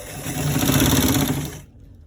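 A sewing machine stitches stretchy fabric for a collar roll, a steady close whirring motor hum running for about a second and a half before cutting off abruptly into silence.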